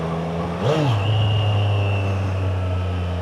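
A 765 cc motorcycle engine swells briefly in pitch and then settles into a steady, close hum, with a faint high whine running above the low drone.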